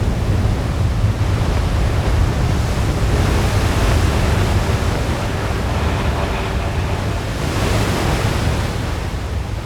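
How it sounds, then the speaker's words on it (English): Big, clean ocean swells break as surf in a continuous loud roar of whitewater and wind, with no voices. "And the swells were just coming in so clean."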